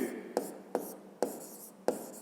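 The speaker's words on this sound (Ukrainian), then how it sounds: "Давайте так і запишемо" A pen writes on paper in four or five quick, evenly spaced strokes, each a short scratchy burst, close and clear in a quiet room.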